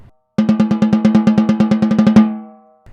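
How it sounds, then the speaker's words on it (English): A snare drum struck in the center with matched grip, giving a rapid, evenly spaced run of about twenty dry, punchy hits. The hits are loud and close, then a short decay. "The center of the drum produces a very dry and punchy sound like this."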